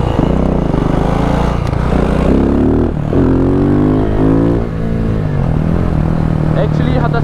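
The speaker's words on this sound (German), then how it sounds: "dieser Auspuff-Sound ist krass" KTM SMC R 690 single-cylinder motorcycle engine and exhaust revving loudly up close, rising and falling in pitch across several throttle blips, with a rider talking over it.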